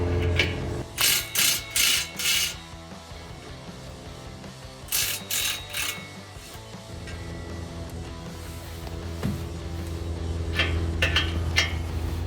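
A hand ratchet clicks in quick repeated strokes while nuts come off during an MBRP 5-inch filter-back single exhaust install on a 2017-2022 Ford F-250. Two close bursts of clicking are followed by fainter clicks near the end.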